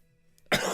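A single sudden cough bursts out close to the microphone after a near-silent pause, loud and harsh, breaking off the quiet.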